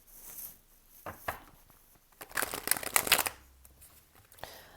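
Tarot cards are shuffled by hand in quick, crisp riffling bursts, with a louder flurry of rapid card flicks in the middle and softer shuffles before and after, close up.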